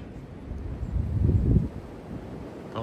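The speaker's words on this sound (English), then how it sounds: "You can see when the gusts come up, the wind that blows." Cold winter wind gusts buffet the microphone outdoors, swelling into a low rushing roar midway before easing.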